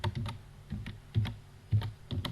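Irregular clicking keystrokes on a computer keyboard, typed in short bursts with small pauses, fairly quiet and close, no talking.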